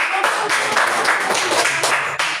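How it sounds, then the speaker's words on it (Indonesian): Audience applause at a group presentation event, a steady, dense wash of many hands clapping close by for the full stretch, with a brief dip near the end. "ya, kita berikan tepuk tangan."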